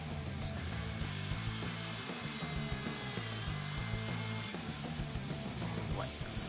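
A Makita trim router mounted in a Chinese mortise jig runs steadily, its motor droning with a constant whine while the bit rubs and cuts into wood in a rough, grinding texture.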